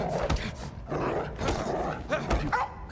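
Dogs barking in Indiana Jones and the Great Circle, repeated harsh bursts about every second, loud and close over a busy game soundscape.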